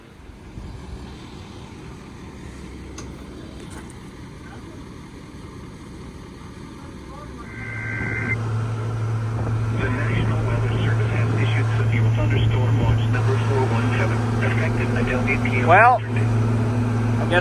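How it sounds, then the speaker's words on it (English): A worn-out Steiger 9230 tractor engine rumbles as the tractor drives. A steady low drone builds louder partway through and holds close, with a brief spoken word at the start. "I guess that's one way to showcase the new tractor. It's a 9230 Steiger."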